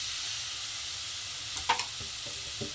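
Chicken masala in a pan keeps up a soft, steady sizzling hiss as a large tomato goes in, with a couple of quick clinks and scrapes partway through and no talking.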